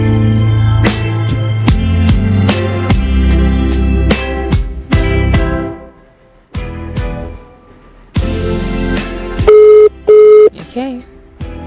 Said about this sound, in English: Let's do that, and just hope Chika answers the phone